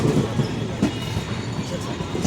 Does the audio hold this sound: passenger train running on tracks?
yes